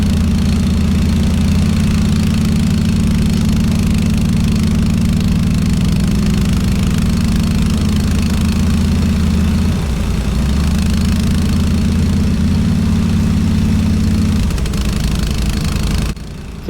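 A Swisher 44 bush hog mower engine runs loud and steady at close range, its low droning note dipping and labouring as it bogs down partway through, then briefly recovering before it cuts off near the end.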